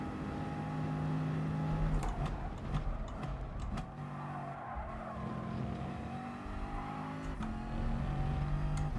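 A race car engine in GT Sport at Lago Maggiore, droning steadily and rising and falling in pitch through gear changes, with brief tire squeal and game effects over a quiet background.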